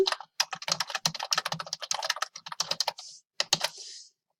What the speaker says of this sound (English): And then over here, you type your question.